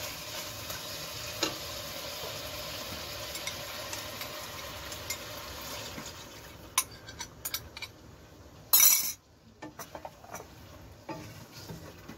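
Mutton rogan josh cooks in a pan with yogurt and a little water, making a low, steady simmer and sizzle, with scattered clinks and stirring taps, especially near the end.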